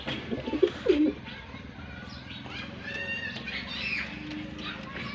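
Soft pigeon cooing, a couple of low throaty coos near the start, then a murmur of background noise and faint chirps.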